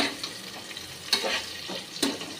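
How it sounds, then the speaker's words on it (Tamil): Onions sautéing for a mutton biryani, a soft steady sizzle with a few brief scraping stir strokes, close by and fairly quiet, with no talk. "வெங்காயம் நல்லா வதங்கணும்"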